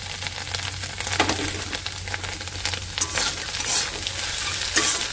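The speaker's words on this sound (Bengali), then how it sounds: "দেখো ডিমটা প্রায় ভাজা হয়ে এসছে, আর একটু ভেজে নেব" An egg fries in a pan for homemade chow mein, giving a steady, close sizzle broken by light scraping and stirring clinks, with no talking.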